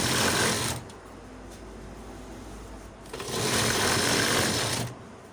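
A sewing machine stitches elastic onto a bomber jacket, running in two loud, steady bursts separated by a quieter pause.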